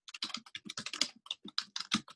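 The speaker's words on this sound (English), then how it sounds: "busily typing away" Rapid, close keystrokes on a computer keyboard, a busy burst of clicks in short uneven clusters with brief pauses, heard alone without talk.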